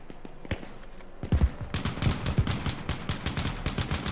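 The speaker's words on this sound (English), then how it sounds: "that's automatic fire over there to the right as well" Automatic weapons fire in the military simulation game Arma Reforger: a single shot, then a burst, then rapid sustained rattling volleys that sound moderately distant and carry on with no talking.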